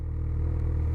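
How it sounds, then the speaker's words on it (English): A PistenBully snow groomer's diesel engine holds a steady, loud low rumble close by on a snowmobile trail, an even drone running throughout. "There he is, the piston bully."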